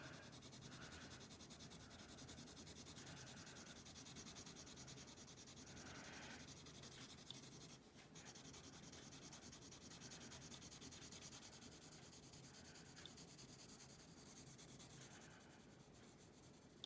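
A 2B pencil shades a worksheet with a soft, continuous scratchy rubbing, faint and close, with steady back-and-forth strokes and brief pauses.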